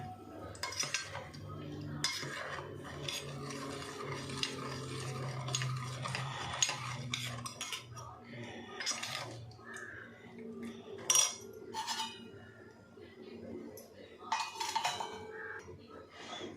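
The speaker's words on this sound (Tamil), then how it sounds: "நாட்டு சர்க்கரையை நல்லா கலந்துட்டேன் பாருங்கள்." A spoon stirs jaggery into rice cake batter in a bowl, giving repeated scraping and clinking strokes against the vessel at close range, with no talk.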